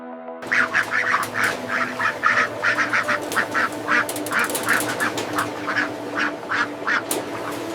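A flock of Pekin ducks in a large duck hatchery quacks continuously nearby, overlapping nasal calls in a steady rapid rhythm over a low background hum.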